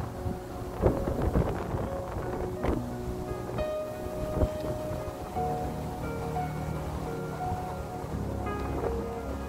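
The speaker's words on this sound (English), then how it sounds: "It is a bit windy." Wind buffets the microphone outdoors where a DJI Mini 2 drone is being flown, a steady low rumble with gusty swells throughout and no talk.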